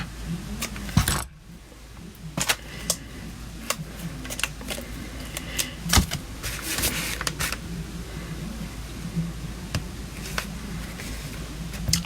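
Close paper-crafting sounds while cardstock is trimmed for a Stampin' Up card, with sharp clicks, taps and light rustles scattered at irregular intervals over a quiet background, no talking.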